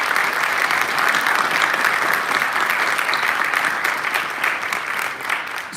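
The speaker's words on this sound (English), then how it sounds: "let's give those students a round of applause" An audience claps for students at a state education event, dense sustained applause that fills the room and tapers slightly toward the end, with no voices.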